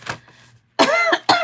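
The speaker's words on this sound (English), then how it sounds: "sorry for coughing" A person with a cold coughs at close range: one faint cough, then two loud, harsh voiced coughs in quick succession.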